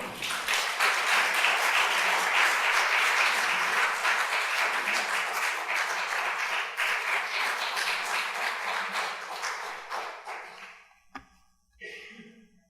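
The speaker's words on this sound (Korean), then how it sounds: "여러분 박수로 환영해 주십시오." A church congregation claps to welcome a member forward during a thanksgiving testimony service, a dense, steady round of applause lasting about ten seconds before it trails off into a few scattered claps and near silence.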